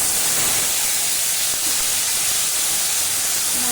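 Spice paste hits hot oil already seasoned with cumin seeds and dried red chilli, giving a loud, continuous broadband sizzle and hiss that stays steady with no voices.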